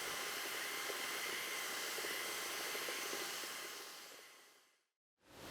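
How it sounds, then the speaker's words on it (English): An electric paddle mixer stirs tile primer in a bucket, a steady loud whirring drone for several seconds that winds down and stops, then briefly starts again. "then I'll get my electric paddle mixer to mix it to a nice liquid consistency"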